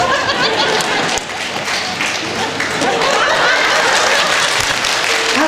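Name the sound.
audience applause at concert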